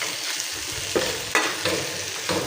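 Yardlong beans (borboti) frying in a pan, a constant sizzle broken by several scraping stir strokes against the pan, close and fairly loud.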